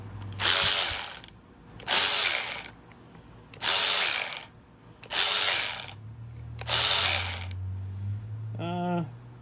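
A Craftsman 20-volt 3/8-inch drive cordless power ratchet whirs in five short bursts separated by brief pauses, close and loud, ending with a quick clicking buzz.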